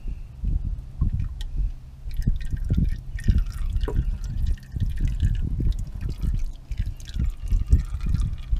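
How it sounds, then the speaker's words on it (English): Used engine oil drains from a loosened filter on a 2007-2013 Chevy 5.3L V8 into a catch bucket, a steady stream of close, irregular drips and trickles running throughout. "So you want to just loosen enough to let the oil drain."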